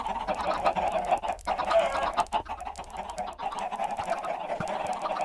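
Blocky chickens in the modded Minecraft world of Tekkit 2 cluck continuously in a crowded, overlapping chorus, a busy mid-pitched flock chatter with occasional sharper squawks and no talking.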